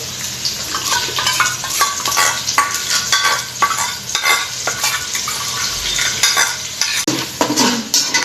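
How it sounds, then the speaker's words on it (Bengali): Spice masala of ginger, garlic, cumin, coriander, chili and turmeric powder with meat masala and salt, frying in a rice cooker as a metal spoon stirs it. Rhythmic scraping and clinks ride over a constant close sizzle. "ভালো করে মশলাটা কষে নেব"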